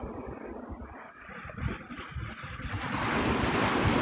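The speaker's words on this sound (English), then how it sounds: "I'm just listening to the waves." Ocean surf at Navarre Beach, Florida, at sunrise: waves wash in with a steady rushing roar that swells louder toward the end, mixed with wind buffeting the microphone and no voices.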